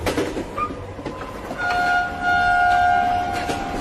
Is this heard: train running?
yes